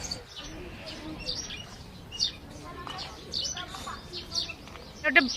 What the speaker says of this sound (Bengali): আর পাখির ডাক নিশ্চয়ই শুনতে পাচ্ছ তোমরা